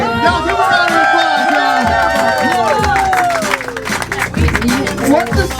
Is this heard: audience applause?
yes